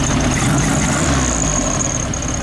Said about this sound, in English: It's idling properly now.